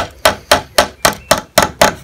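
Seven sharp, evenly spaced hammer blows drive an 80mm screw through timber framework toward brickwork while building a cabin, each strike loud and close with a brief ring-off.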